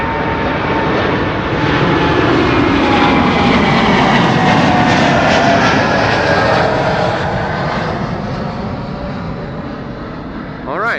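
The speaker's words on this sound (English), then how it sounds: "This is American Airlines flight 203 to Philadelphia." An American Airlines jet on flight 203 to Philadelphia departs Schiphol with a loud, sustained engine roar that peaks early and slowly fades, while a voice talks faintly underneath.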